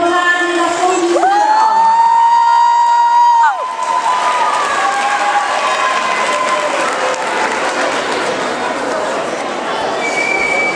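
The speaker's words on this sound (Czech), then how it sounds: "Zatleskejte jim pořádně na svou výzvu." An audience at a children's award ceremony claps and cheers loudly for a winning team of 21 in the second category, a broad sustained wash of applause with whoops, following a brief rising tonal sweep and with voices mixed in.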